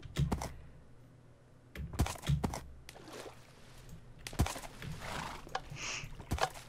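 A horse in the video game Minecraft makes a few sharp, separate thuds and clops, with a brief whinny-like sound near the end, heard close and alone against a quiet background.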